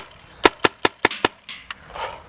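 A Tippmann FT-12 or BT Combat Slice paintball marker fires five quick sharp pops in even succession outdoors, followed by a couple of softer, more scattered shots.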